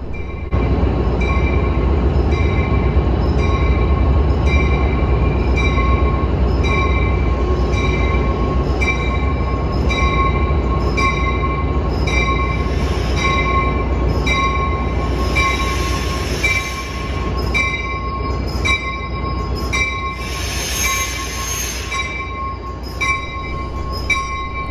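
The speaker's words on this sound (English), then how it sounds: "head straight to the platform and watch your train arrive." A Metra BNSF commuter train rolls into the platform with a steady rumble and a high ringing squeal from the wheels, bursts of hissing brakes near the end, loud and close.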